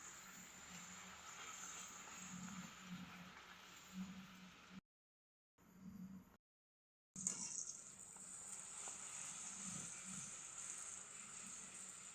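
Luchi frying with a soft, steady sizzle in hot oil, briefly cutting out twice before resuming.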